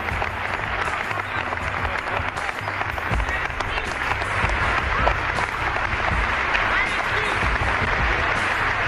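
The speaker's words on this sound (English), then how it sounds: "Let's bring them on with a warm round of applause." A gathering applauds warmly as Masonic guests are brought on, with the clapping building gradually and continuing dense and crowd-wide for nearly nine seconds.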